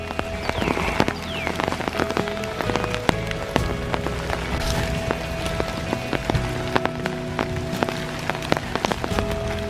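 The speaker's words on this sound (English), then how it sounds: "It's raining a little harder now, but that's all right." Rain falls steadily through a park on a dark spring morning at Iroquois Park, a dense close patter on leaves and ground with scattered heavier drips, and no talking.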